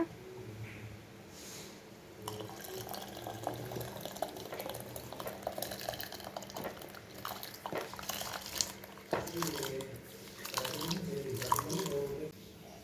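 Water boiling in a clay pot while cooking millet rice pongal, a continuous close bubbling and gurgling with scattered pops and drips, no talking.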